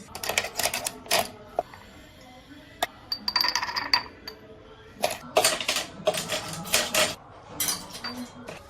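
Glass jars handled at home, giving a string of sharp clinks and knocks in bursts with short pauses, close by, with some faint background noise between the contacts.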